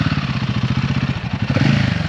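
A Royal Enfield motorcycle engine thumps in a fast, regular low pulse, loud and close, idling or running at steady revs with no talk over it.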